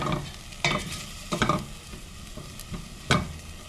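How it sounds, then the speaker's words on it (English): Frozen, slightly wet kale wilting in a pan over a soft sizzle, punctuated by four or five distinct scraping stir strokes spaced irregularly, close and quiet, with no talk. "And I'm just wilting the kale."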